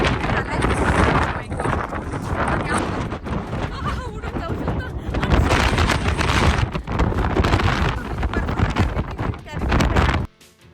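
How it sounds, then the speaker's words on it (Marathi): Powerful gusts roar across a mountain summit and buffet the microphone in a loud, rough, continuous blast that swells and dips, then cuts off abruptly near the end; voices are partly mixed in. "हवेचा आवाज पण येत असतो मला"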